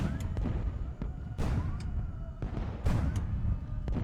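Repeated explosions from a fleet bombardment in the airship war game Highfleet, several sharp booming bursts spaced roughly a second apart over a dense low rumble, fairly loud and close.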